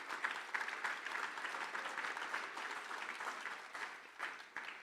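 Applause from a conference audience honoring a remote speaker, fairly faint and steady clapping from a moderate crowd, with no voices over it.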